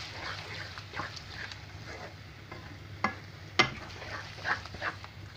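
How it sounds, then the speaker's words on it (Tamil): Salted vegetable curry for bandaari datte patchady being mixed by hand in a pan, soft scraping and stirring with a few sharper clinks near the middle, a low steady hum beneath. "இப்போ நம்ம நல்லா மிக்ஸ் பண்ணியாச்சு."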